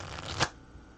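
A single quick riffle of tarot cards, a brief papery burst peaking near the middle, then near-quiet.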